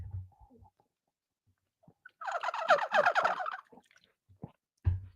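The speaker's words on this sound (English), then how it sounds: "Also a turkey call." A turkey call blown by hand produces a rapid, rattling gobble lasting about two seconds, loud and close, framed by faint handling knocks before and after.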